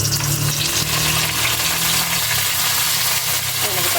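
Garlic and onion sauté in a pan with a steady broadband sizzle, while a low hum and some background voices sit underneath.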